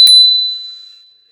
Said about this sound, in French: la petite sonnette